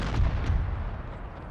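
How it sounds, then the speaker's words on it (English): Artillery fire in the strategy game Empire 2 with Polish-Lithuanian Commonwealth forces: a rumbling low boom that fades over a second, with a sharp report at the very end. "I'm gonna switch my artillery to fire further away over here."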